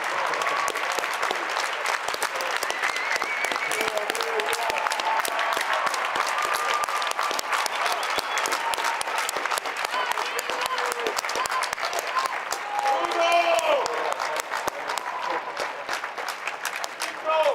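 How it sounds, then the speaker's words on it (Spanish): Sustained, dense audience applause at a large live event for a Spanish TV series finale, with faint voices and cheers mixed into the clapping throughout. "Un aplauso para él."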